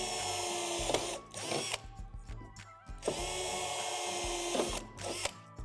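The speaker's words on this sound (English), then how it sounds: "Drill those out with the provided drill bit." Cordless drill set to its highest torque, drilling through the metal tube of a Lifetime outdoor shed door: a loud whining grind in repeated bursts with ratcheting clatter and gaps between, close up.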